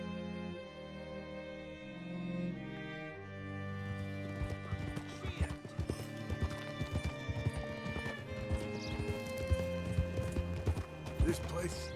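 Horse hooves clip-clop steadily in Red Dead Redemption 2, with a neigh or whinny and a rhythmic trot building in the second half alongside game music and background voices.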